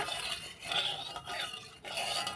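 Food in mustard oil is stirred in a pan: a few soft, rhythmic scraping strokes of a spoon against the pan, fairly quiet and close, with no voices.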